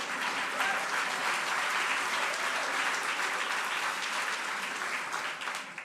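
Audience applause at a State of the City address, a dense, steady wash of many hands clapping that holds strong throughout, with no talk over it.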